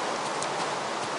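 Steady rain in Minecraft, a soft continuous hiss of falling drops with faint pattering, even and unbroken across a short stretch with no talking.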